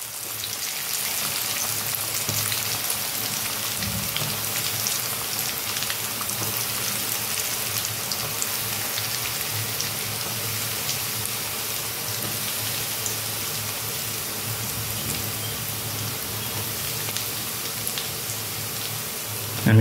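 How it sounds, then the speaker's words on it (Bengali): Drumstick flower fritters with Maggi frying in hot oil on a lowered flame, a continuous close sizzle and bubbling that holds evenly throughout with a rain-like hiss. "ভেজে নেব বন্ধুরা"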